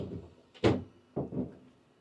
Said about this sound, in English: This bathroom does have the capsule, so you get the shower doors.